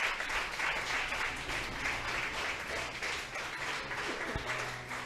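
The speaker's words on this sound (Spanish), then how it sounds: "Vamos a darle un aplauso a Dios" A church congregation claps together in sustained applause, a dense, even wash of many hands that carries on through the whole stretch without talk.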